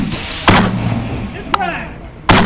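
Gas-powered guns fire at an outdoor shooting range during a gas gun challenge, with two sharp, loud shots about two seconds apart. A fainter pop falls between them.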